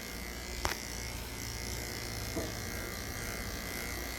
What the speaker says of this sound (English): Now this is where the clipper might get caught.